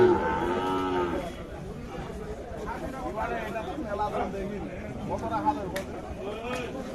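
Sahiwal bull calves of about ten to eleven months moo at a busy rural cattle market. Several close, drawn-out lows rise above a steady background of crowd chatter and people talking.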